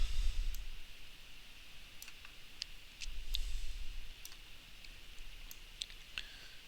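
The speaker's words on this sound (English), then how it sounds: "you might notice me doing a lot of mouse movements and hearing clicking without anything going" A computer mouse clicks in sharp, light, irregular taps, spaced a second or so apart, close up over a faint background hiss and low thumps of handling.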